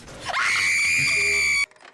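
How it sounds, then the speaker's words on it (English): Someone lets out a loud, sustained high-pitched scream of fright lasting over a second, set off by a horror-game jump scare in an elevator with a doll, then cut off abruptly into near silence. "you didn't even look and you screamed"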